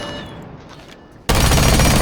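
Ela's gun firing in the Rainbow Six shooting range, a loud burst of rapid automatic fire erupting suddenly after a quieter stretch of game ambience, close and continuous.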